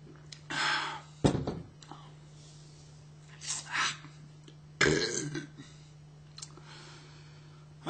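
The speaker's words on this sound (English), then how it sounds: "I don't burp very loud, by the way." A couple of short, soft burps stand out among quiet whispery mouth noises, clicks and breaths, recorded close over a faint steady hum.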